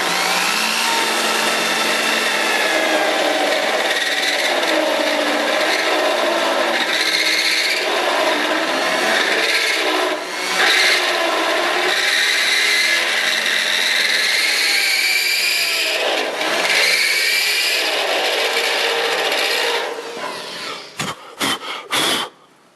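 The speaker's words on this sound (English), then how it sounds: "I'm going to drill out until I go through the first layer of metal here." A steady, grinding drill bores out a spot weld in sheet metal for about twenty seconds, continuous and close, then stops with a few short bursts at the end.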